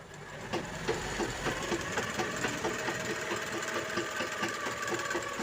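A sewing machine stitches blouse fabric in a steady, fast, even mechanical rattle with a rhythmic ticking pulse. It runs continuously at moderate loudness with no voices.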